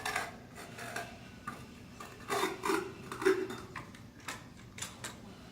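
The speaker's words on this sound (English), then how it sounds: "See how you get scrape off one side at a time? You do this until you get scrape off most of the clay." Clay scraped off a pottery extrusion piece, one side at a time: a series of short rasping, rubbing scrapes at an uneven rhythm, close and fairly quiet, with no talk.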